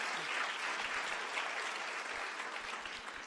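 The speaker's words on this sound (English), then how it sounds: "So you got to give them a round of applause." A room's audience at a town board meeting applauds a national-champion show choir, steady continuous clapping at moderate level throughout, no voices over it.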